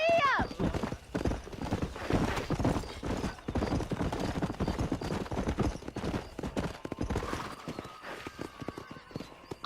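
Horses galloping in the video game Red Dead Redemption, a steady rapid clip-clop of hooves up close with an occasional whinny, while characters talk over the riding.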